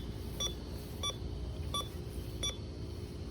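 Metal detector sweeping over a buried target in a residential yard gives four evenly spaced, sharp electronic beeps over a steady low background rumble, each tone short and clear.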